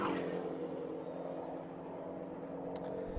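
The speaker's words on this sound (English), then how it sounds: "This sounds pretty good as well. This Porsche." A Porsche race car engine at a Snetterton circuit race day drones steadily at a distance, a sustained mechanical hum with a brief higher whine near the end.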